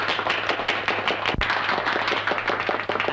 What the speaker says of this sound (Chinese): 请各位鼓掌